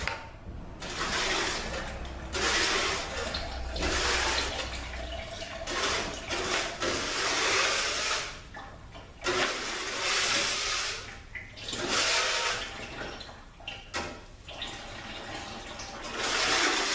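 Oil pouring and splashing out of a ZF 6HP26 automatic transmission during teardown, a continuous liquid rush that surges and ebbs in bursts, fairly close and steady, with no talking.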